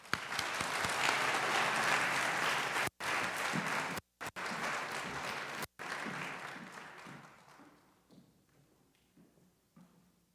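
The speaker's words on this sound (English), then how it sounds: "let's give her a warm round of applause anyway" An honors night audience gives a warm round of applause for an absent poetry winner, loud dense clapping that holds for several seconds, briefly cuts out, then fades away into quiet.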